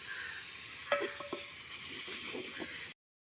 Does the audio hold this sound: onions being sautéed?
yes